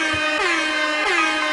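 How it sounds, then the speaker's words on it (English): Two loud blasts from an air horn sound effect, each a bright, brassy honk with a sliding pitch, played back to back and alone without any voices. "We gotta pick him up with a couple air horns."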